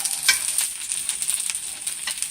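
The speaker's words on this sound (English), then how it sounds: "we're going to let them sit here and fry like this on medium heat in this extra virgin olive oil" Cipollini onions frying over medium heat in extra virgin olive oil, a steady bright sizzle with soft crackles and pops, close and continuous with no talking.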